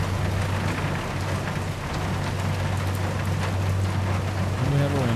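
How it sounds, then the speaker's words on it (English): Steady rainstorm in the ship simulator game Seafarer: The Ship Sim, a dense continuous hiss of rain with a low rumbling undertone, fairly loud and unbroken, with a faint tonal sound rising near the end. "We have a rainstorm going on here."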